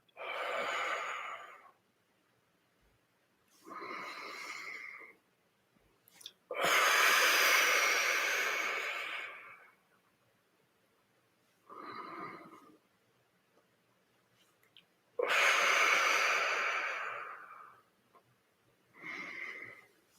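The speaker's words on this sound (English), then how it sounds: "Inhale through the center and exhale" Deep breaths during a stretching session, drawn in and pushed out in a slow cycle of long airy inhales and exhales, each lasting one to three seconds with pauses between, close and fairly loud.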